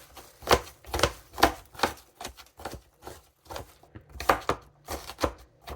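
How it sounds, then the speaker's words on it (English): Onion chopped with a knife on a small cutting board: sharp, uneven thuds of the blade striking the board, close and clear, in irregular bursts with short pauses. "Onions are flying. My cutting board is not as big as I wish it was."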